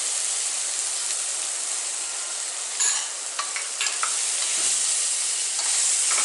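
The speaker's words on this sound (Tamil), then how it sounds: "நம்ம இஞ்சி பூண்டு விழுது சேர்த்துக்குவோம். பச்சை வாசம் போகிற வரைக்கும் நல்லா வதக்கிக்குவோம்" Ginger garlic paste with turmeric sautés in a pan for goat rib bone soup, giving a continuous bright sizzle broken by a few stirring scrapes and clicks midway.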